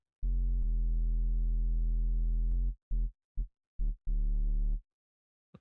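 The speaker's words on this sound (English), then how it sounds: "just have our bass, our main bass sound, go down" A deep, clean synth bass tone in an old-school jump-up drum and bass track holds for a couple of seconds, then drops out and returns in short stabs, heard alone with no drums or voices.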